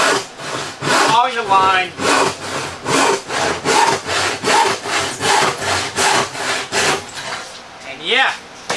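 A hand saw cuts a clamped wooden board in long rhythmic rasping strokes, about a dozen evenly spaced back-and-forth passes, loud and close, with brief spoken instruction over the start.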